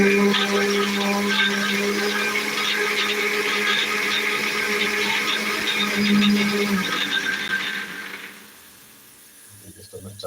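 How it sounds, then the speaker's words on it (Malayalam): A mixer grinder grinding soaked chickpeas whirs loudly and steadily for about eight seconds, then cuts off, leaving a quieter tail of faint rattling. "ഇനി നമുക്ക് ഒന്ന് മിക്സി വെച്ച് അരച്ചെടുക്കാം"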